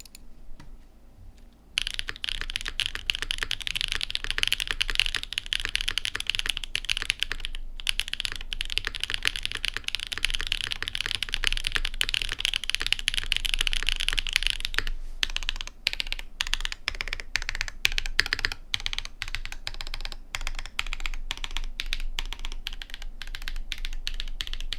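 Typing on a Vertex Intro S100 full-size mechanical keyboard with a single PCB, carbon fiber plate and long pole switches, a rapid close stream of keystroke clacks with brief pauses, no talking.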